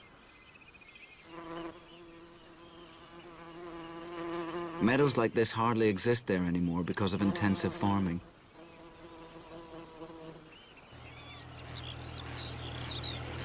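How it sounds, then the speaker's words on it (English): Bumblebees, including moss carder and great yellow bumblebees, hum in a Western Isles machair meadow with a low droning buzz that rises and falls as they fly near, a voice talking over part of it and birds faintly behind. "the Macaire hums with rare bees like the moss carder and the great yellow bumblebee"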